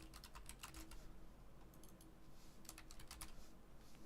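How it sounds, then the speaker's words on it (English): Quiet bursts of typing on a computer keyboard, quick clusters of light key clicks separated by short pauses, close and faint, with no voices. "Let me type."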